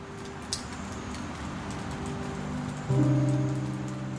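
Steady pouring rain makes a soft, even hiss throughout, with a faint click near the start. A gentle sustained musical tone enters near the end and rises over the rain.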